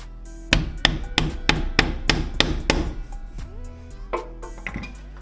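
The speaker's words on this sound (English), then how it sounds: "you have to keep shoving the bread in there and hitting until it eventually pushes it out" A hammer strikes bread packed into a 14mm socket to force out a clutch pilot bearing, about eight sharp metallic blows in quick succession, close and loud, followed by lighter taps and clinks.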